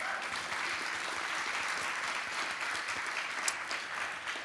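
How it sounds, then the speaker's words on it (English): An audience at a soccer panel event gives a speaker a steady, full round of applause that holds evenly for several seconds, with no one talking over it. "A round of applause for Marcus."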